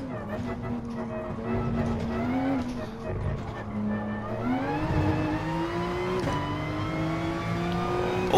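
Race car engine in GT Sport accelerating hard through a fast lap, a steady loud drone with pitch climbing through several gear changes, under someone talking.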